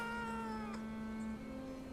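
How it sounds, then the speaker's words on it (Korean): A cat meows in a survival video game, one drawn-out, wavering call that rises and bends in pitch, sounding close and clear over a steady in-game hum with no talking. "어, 고양이 있다, 여기."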